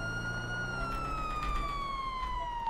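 A police siren in the game GTA V (NoPixel 4.0 roleplay) wails continuously with a slowly falling pitch, steady and fairly loud, with faint thumps underneath.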